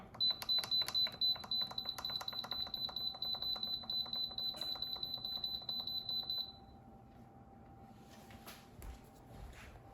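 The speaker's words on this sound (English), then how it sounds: "Now the Instant Pot is done cooking" An Instant Pot gives a rapid series of high electronic beeps for several seconds when done pressure cooking, then stops, leaving a faint hum and soft room noise.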